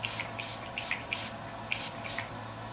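Urban Decay All-Nighter setting spray is pumped in a series of short, soft hissing bursts, about eight quick sprays in close succession, near and fairly quiet.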